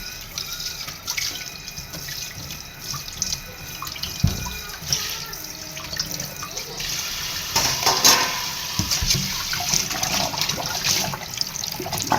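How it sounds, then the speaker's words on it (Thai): Water running steadily from a tap with clinks and knocks of dishes being washed, close by, continuous splashing throughout. "ล้างถ้วยล้างชา"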